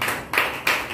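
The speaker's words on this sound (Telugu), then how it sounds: "చప్పట్లు కొట్టి" Worshippers clap their hands in time at a Sunday church service, three crisp, evenly spaced claps within a second, close and distinct.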